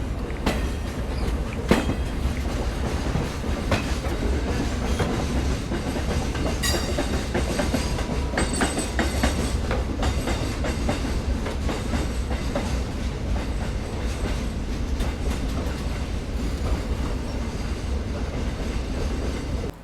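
Passenger trains running on parallel tracks, the Mangaluru-Ujjain and Mysuru-Ajmer Sampark Kranti expresses, give a steady loud rumble with rhythmic clickety-clack of wheels over rail joints and occasional metallic squeals, continuous for the whole stretch.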